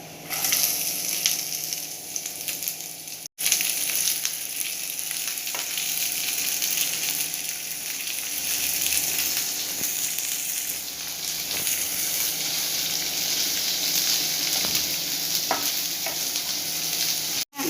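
Onion fries in a pan in a long, even sizzle, close and constant, with occasional stirring clinks and scrapes and a short break near the start. No one speaks.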